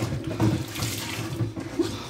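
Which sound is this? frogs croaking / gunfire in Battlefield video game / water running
water running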